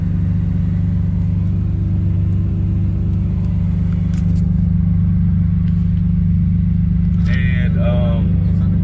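A BMW M3 fitted with VRSF downpipes idles loudly after a cold start, holding a steady deep drone throughout with a brief higher rev flutter near the end.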